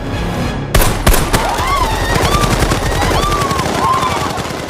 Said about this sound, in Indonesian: suara tembakan itu ternyata terdengar jelas oleh Gasper